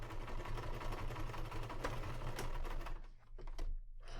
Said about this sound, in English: So I'm going to sew along this side first.